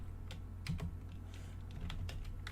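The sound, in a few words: typing on a computer keyboard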